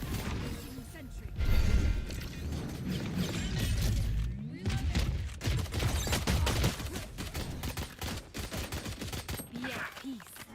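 A sentry turret fires in a video game with rapid, repeated mechanical shots, close and sustained across the clip, mixed with clanks and other game noise while voices speak briefly.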